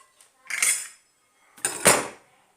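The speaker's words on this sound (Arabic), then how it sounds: "غادي نجيب واحد مقله ثقيله" A heavy frying pan handled in a kitchen: two distinct metallic clanks and scrapes about a second apart, close and fairly loud against near silence, with no talking.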